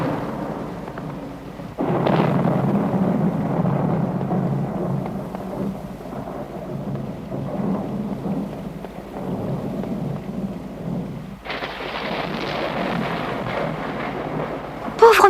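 A thunderstorm with steady rain and a low, rolling rumble of thunder that swells and fades, then a sharper, brighter crack of thunder and a sudden strong burst near the end.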